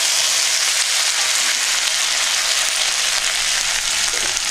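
Bay leaves, whole cumin, dried red chillies and ginger paste sizzling in hot oil, a loud, steady, close crackling hiss with no pauses.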